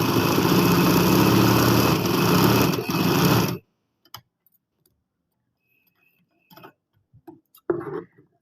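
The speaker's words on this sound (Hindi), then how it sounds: "अब इसकी किनारी की सिलाई भी आप लोगों को लगा के दिखाती हूँ मैं" A sewing machine stitches along a folded fabric edge in a loud, close, continuous hum for a few seconds, then stops abruptly, leaving quiet with scattered small clicks and handling noises.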